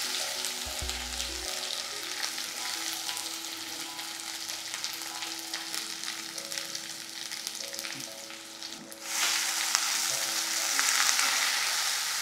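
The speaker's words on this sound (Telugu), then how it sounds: "ఈ గ్రైండ్ చేసిన ముద్ద ఉంది కదా, దాన్ని నూనెలో వేసేయండి" Steady oily sizzle of a thick ground masala paste frying in oil in a pan, continuous and close, growing louder and brighter toward the end.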